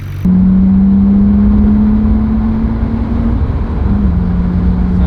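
A Nissan GT-R engine, just fitted with a new radiator, runs with a loud, steady mechanical hum that starts abruptly, holds for about three seconds, dips briefly and then continues at a slightly lower pitch.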